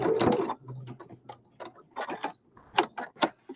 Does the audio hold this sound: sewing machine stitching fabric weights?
yes